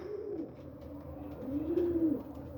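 Racing pigeons in a loft coo softly and continuously, a low rolling murmur from several birds close by, with one longer swelling coo standing out near the end.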